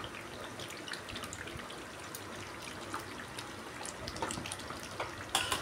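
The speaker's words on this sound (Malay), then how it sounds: "Kita boleh masukkan air asam jawa." Tamarind water poured into chili paste frying in oil makes a steady watery trickle with scattered crackles and sizzling pops, fairly quiet and close, with no talking.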